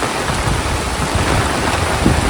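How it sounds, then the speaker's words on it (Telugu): Rain falls in Goa as a dense, steady hiss with a deep rumbling undertone, filling the short stretch evenly without any voices. "దూరంగా పడుతుంది వర్షం"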